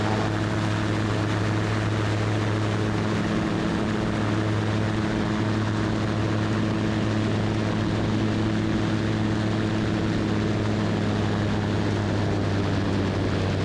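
A Super Petrel seaplane engine runs at steady high power over water, a loud, continuous propeller drone with strong low harmonics that holds level throughout and has no talk over it.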